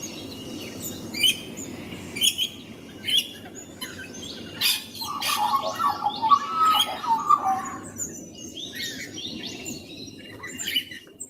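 A person imitates magpie calls, giving a string of sharp chirps and squawky whistles, with a denser, more excited burst in the middle, heard clearly and up close in a podcast setting.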